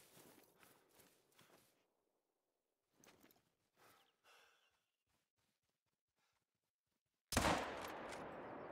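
A Coachmate Lever .45-70 rifle fires once in the hunting game Hunter Call of the Wild, a sudden loud blast that cuts in after quiet stretches of faint rustling and footsteps and then rolls on as a sustained echoing report.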